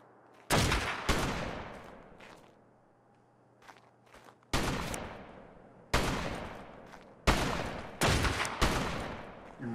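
Gunfire in a video game boss fight, heard as several sharp, loud volleys of shots separated by short lulls, each burst ringing out and fading before the next.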